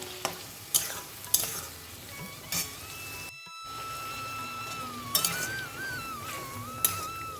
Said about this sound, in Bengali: আমাদের কিছুক্ষণ কষিয়ে নিতে হবে এটাকে